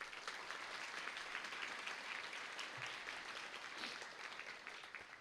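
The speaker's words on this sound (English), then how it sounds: "please give them a round of applause to say thanks" Audience applause at a university honors college spring graduation celebration, a steady dense wash of many hands clapping that holds throughout at a moderate, distant level with no voices on top.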